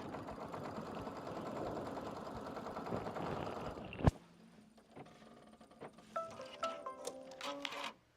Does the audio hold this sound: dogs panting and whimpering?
no